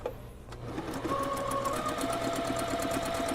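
A sewing machine runs a steady basting stitch along a puffy shoulder sleeve, a continuous close whirring hum with rapid regular needle ticks after a brief quieter start.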